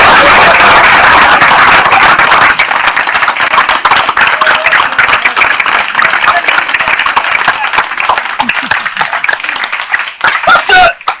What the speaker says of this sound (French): Applaudissez-moi ça.